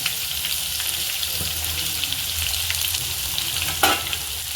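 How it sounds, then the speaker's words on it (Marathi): Onion, garlic and curry leaves sizzle steadily in a pan, a continuous frying hiss with a brief stir or clatter near the end, no voices. "चांगलं परतून घ्यायचं कांदा चांगला लाल होईपर्यंत परतायचा"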